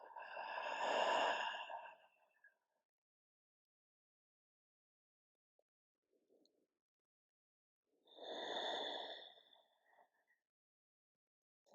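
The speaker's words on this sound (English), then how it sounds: "taking a big open mouth exhale" A big open-mouth exhale during yoga breathing practice, a soft, breathy sigh heard close and alone, followed by a long quiet pause and then a second long exhale.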